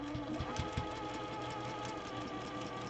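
A sewing machine runs steadily while stitching a quilt square in a quilt-as-you-go project, its soft, even mechanical whir with faint rhythmic ticks heard close up and quiet, with no talking.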